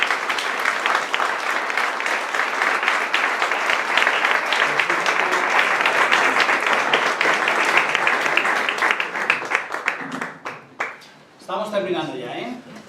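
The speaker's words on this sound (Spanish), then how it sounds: "Un fuerte aplauso para Álvaro" Loud, sustained applause from an audience for a guitarist after a solo performance, dense clapping that holds for about ten seconds before breaking off, followed by a voice speaking.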